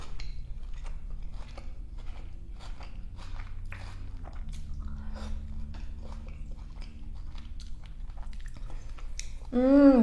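Someone bites and chews beef pho with a side of shrimp spring rolls, producing soft, close, irregular wet chewing and crunching over a low background hum, with a brief voiced sound at the end.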